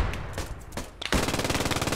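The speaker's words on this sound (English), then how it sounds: "Good shots on that machine gun." Rapid, steady machine gun bursts in the video game Post Scriptum, set in a WWII battle, start abruptly after a second of sparse scattered shots and continue loud and close in a fast even rhythm.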